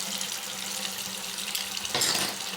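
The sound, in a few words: tap water running into a sink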